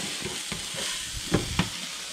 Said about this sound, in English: And then just mix that around until it's nice and wilted.